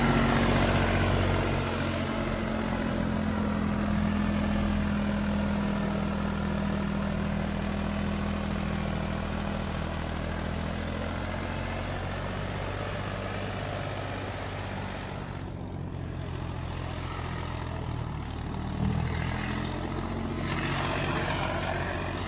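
A new Solis 5015 tractor engine runs in a steady, loud, low drone that holds without a break for the whole stretch, with no voices over it.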